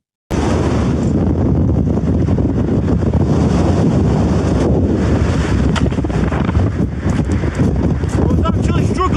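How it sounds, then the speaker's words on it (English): Fierce wind roaring at a campsite, loud and constant, buffeting the microphone with heavy low rumble from start to finish. "The wind behind that wall sounds absolutely ruthless."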